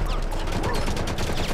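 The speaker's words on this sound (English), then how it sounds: "That guy shot me through the shield." Video game gunfire, a brief loud flurry of rapid automatic shots crackling continuously for about a second and a half, with a voice faintly underneath.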